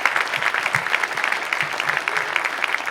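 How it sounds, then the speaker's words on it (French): An audience at a French deputy's New Year greetings ceremony claps steadily, a dense, sustained round of applause that fills the room with no pause. "Sous un tonnerre d'applaudissements, votre députée, pour ses vœux, Anaïs Belwassa-Chérifi."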